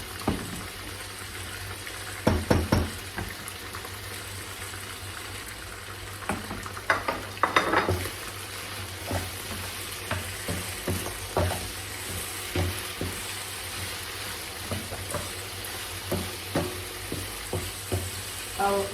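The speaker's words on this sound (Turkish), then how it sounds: "Şöyle güzelce kavruldu bunlar." Food pan-roasting in a hot pan, a steady sizzle running throughout with irregular scraping and clinking stirs from a utensil, close and fairly loud, no talking.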